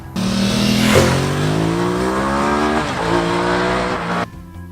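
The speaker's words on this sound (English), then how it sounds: "One characteristic of this bike that I found absolutely addictive is the sound it makes when it accelerates." A Ducati Multistrada S high-end sport adventure motorcycle engine accelerates hard, close and loud, its rising harmonic roar climbing through the revs with a brief dip before cutting off near the end.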